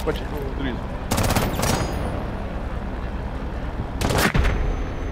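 Gunfire in the tactical shooter game Rainbow Six Siege: two dense bursts of shots, one early and one near the end, over a steady game background.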